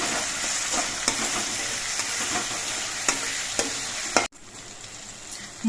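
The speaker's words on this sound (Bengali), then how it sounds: "এবার সব মশলাগুলো একসঙ্গে কিছুক্ষণ কষিয়ে নিতে হবে।" Spices sizzle and fry in a pan while being stirred, a constant close crackle punctuated by sharp scraping knocks, then the sound drops abruptly to a quieter hiss near the end.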